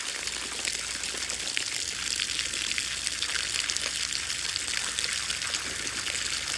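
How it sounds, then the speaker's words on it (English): Water runs steadily from a hose while backyard trees are watered, a continuous hissing splash close by with no voices. "Just going to go ahead and water the backyard trees."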